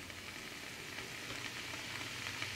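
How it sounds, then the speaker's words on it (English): Steady, soft sizzling of sesame shrimp stir-frying in a hot pan, a continuous crackly hiss with no talking. "Oh yeah, you're starting to hear sizzling."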